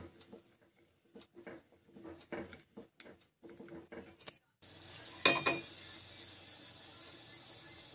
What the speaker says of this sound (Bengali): প্রেসার কুকারে চাপিয়ে নিলাম।